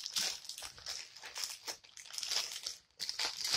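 Tape and packaging being torn open by hand for a thrift haul, giving continuous close crinkling and ripping with a short pause near the end before more tearing.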